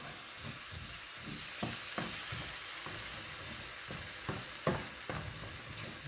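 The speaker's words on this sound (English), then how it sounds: "Now just stir that in a little bit." Ketchup being stirred into a spicy bourbon whiskey BBQ sauce: a steady sizzling hiss runs throughout, broken by scattered soft scraping knocks from the stirring.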